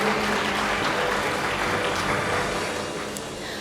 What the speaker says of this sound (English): all of you deserve a very good clap